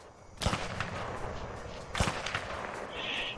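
Two sharp gunshots in A Way Out, about one and a half seconds apart, cracking loud and close over a busy game soundscape.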